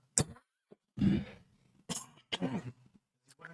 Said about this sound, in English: the fact that I'm coughing